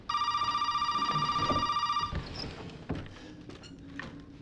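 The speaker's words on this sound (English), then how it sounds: "All right, let's answer the phone." Telephone ringing in the survival horror game Resident Evil 7: Biohazard, a steady electronic ring pulsing for about two seconds before cutting off, followed by quieter room noise and faint rustling.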